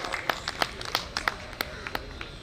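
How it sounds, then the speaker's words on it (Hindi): Scattered hand claps from a small audience at an engineers' association New Year function welcoming a guest, sharp irregular claps, fairly close and moderate in volume, with no talk. "दोस्तों तालियों से स्वागत करिए श्री PN त्रेहान जी का"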